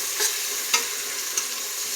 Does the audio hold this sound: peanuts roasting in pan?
yes